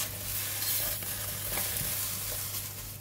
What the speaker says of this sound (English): We're going to dry roast it until the garlic and the chili give out a nice fragrance